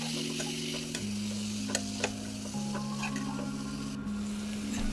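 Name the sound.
sautéing masala for bata fish curry with added water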